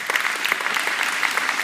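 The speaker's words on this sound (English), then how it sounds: "I think they deserve a round of applause" A crowd applauds steadily throughout, dense clapping from many hands at an even level with no voices breaking through.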